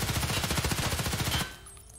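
HK 416A5 rifle in Escape From Tarkov firing one sustained full-auto burst of rapid, even shots for about a second and a half, then cutting off into a short fading echo.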